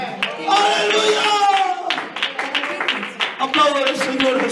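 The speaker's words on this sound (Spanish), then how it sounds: "Aplaudan al Señor Jesús, aplaudan al Señor Jesucristo." Pentecostal church congregation claps for Jesus in steady, dense rhythmic clapping, loud and close, mixed with shouting voices throughout.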